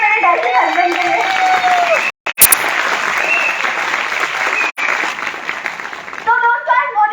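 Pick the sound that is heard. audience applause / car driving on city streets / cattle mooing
audience applause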